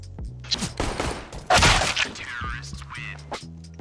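Rapid gunfire in the CS:GO video game, a burst of sharp cracking shots with one heavy, dense volley in the middle, followed by scattered thuds, heard up close amid game effects.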